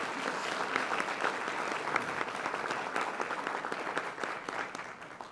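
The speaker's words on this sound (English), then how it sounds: "let's have a round of applause for the 2 out of all those that made it" At a school board meeting, an audience applauds high school band students with a steady, fairly quiet patter of clapping that sounds somewhat distant and tapers slightly near the end.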